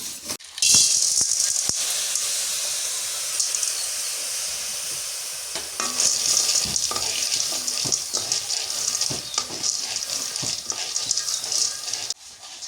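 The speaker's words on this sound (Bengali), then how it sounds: "ভুট্টা ভাজি করো" Corn kernels fry in a pan in a village kitchen, giving a loud, continuous sizzle and hiss with occasional scraping stirs, dipping briefly partway through before picking back up.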